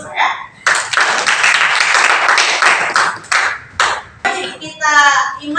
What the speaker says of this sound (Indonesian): kelompok 4 juga kita kasih aplaus ya